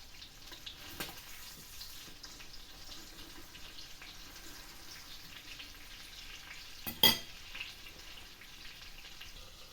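Potatoes fry and begin to brown in a pan for a dandelion dish, giving a soft, continuous sizzle at low level, with one brief louder clatter partway through.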